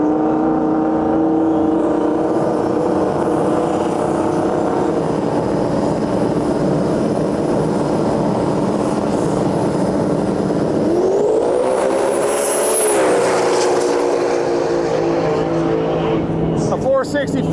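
Drag racing cars make a qualifying pass down the strip in an Ultra Street class event, sounding as a loud sustained engine roar that climbs in pitch and swells past before fading, with an announcer talking throughout.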